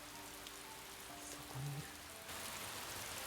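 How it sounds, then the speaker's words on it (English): Rain sound effects from a visual novel video game make a soft, steady hiss of falling rain, faint and continuous, with a short low tone partway through. "making the rain sound effects"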